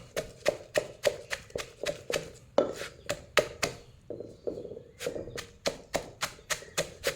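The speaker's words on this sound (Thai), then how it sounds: "ทำไปเรื่อยๆนะครับ ตำจนมันเหนียวนะครับ" A pestle pounds shrimp trap bait in a mortar with steady, rhythmic thuds, close and fairly loud, with a brief pause midway before the beating resumes at an even pace.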